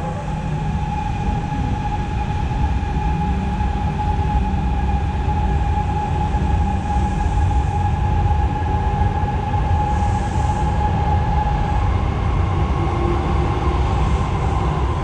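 A Palembang LRT train built by PT Inka Madiun, three cars long, rumbles past close by with a steady, loud rolling drone and a sustained tonal whine from the running gear, unbroken throughout.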